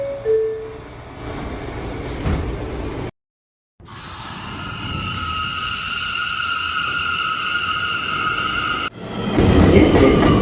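A New York subway R211 A train pulls out of 175th Street station, its loud rumble joined by a steady rising motor whine after a brief cut to silence, and the roar swells toward the end.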